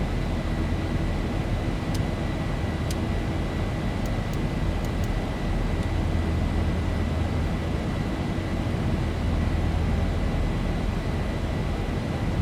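An airliner climbing after takeoff in X-Plane 11 from Bournemouth gives a steady, loud roar of engine and rushing air, with a few faint clicks over the constant drone.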